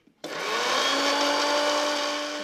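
A mixer grinder grinding soaked ragi with a little water starts abruptly and whirs at a steady high pitch, grinding continuously, loud and close.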